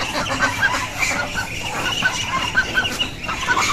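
Chinese duck ducklings calling in a group, a busy stream of short, high-pitched peeps and chirps overlapping continuously at close range with no speech.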